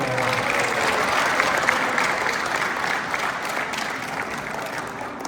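An audience applauds at an awards ceremony for a Belgian RVC tournament, dense sustained clapping that stays loud and even for about five seconds, slowly tapering toward the end.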